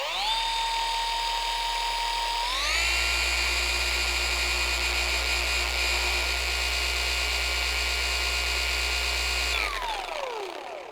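Milwaukee M18 Fuel cordless random orbital polisher spinning at its highest speed setting with no pad, held in hand: a steady high motor whine ramps up, holds evenly, then winds down smoothly at the end, close and alone.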